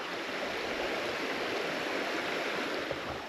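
Steady broadband rush of a stream pouring over and around rocks below a rocky outcrop during a midday landscape shoot, continuous and close, with no voices.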